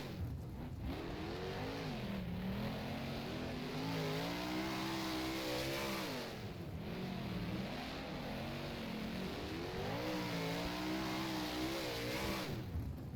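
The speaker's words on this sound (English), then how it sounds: "Got the big 410 engine package on board." A 410 sprint car engine in the rFactor racing game, racing at Western Springs, revs loud and continuously, rising and falling through gear-like pitch sweeps for the whole stretch, with no talk over it.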